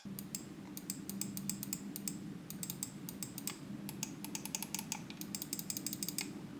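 Rapid, crisp clicking in irregular bursts from a mouse scroll wheel with a loud tactile KAILH GN 2.0 switch ratcheting and buttons being pressed, close up over a low steady hum.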